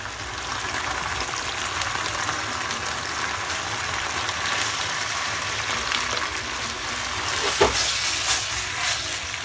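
Pork bulgogi frying with onion and green pepper, a steady close sizzle and hiss with soft stirring scrapes and a brief louder spatter near the end.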